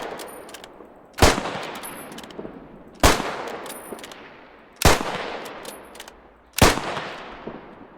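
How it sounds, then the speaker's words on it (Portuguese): Four loud rifle shots from a WWII British infantry rifle in a video game ring out at evenly spaced intervals, each followed by a decaying echo and faint metallic clicks between them. "deixa eu dar uns tiros aqui com ele"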